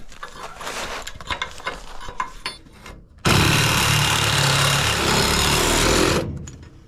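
Power tool with a Diablo carbide metal-cutting blade slicing through cast iron on a trailer project: scattered clanks and handling noise, then a loud sustained grinding roar for about three seconds before stopping.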